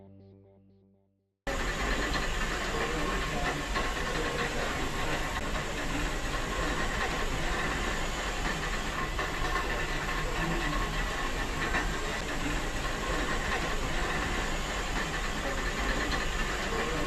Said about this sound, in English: This is 34028 Eddystone, a fully Pacific, and it's in full working order here at Swanage Railway.